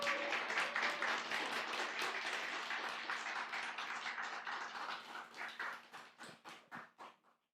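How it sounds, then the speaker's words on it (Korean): Church congregation applause during a Sunday afternoon service, steady and fairly close at first, then thinning into a few separate, slowing claps before stopping. "큰 박수 부탁드리겠습니다"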